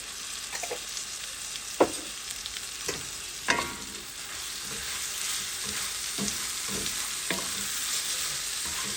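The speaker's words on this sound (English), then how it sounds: "Let's add in a teaspoon of garlic. Minced garlic." Sausage and minced garlic frying in a skillet, a bright constant sizzle up close, punctuated by several sharp spatula scrapes and taps early on before settling into an even hiss.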